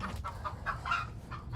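A chicken clucks near a door, a few soft broken clucks over low background rumble, close by and fairly quiet.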